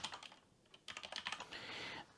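A short burst of quick key clicks on a computer keyboard, typed at close range in a quiet room with no voices, ending in a soft rapid flurry.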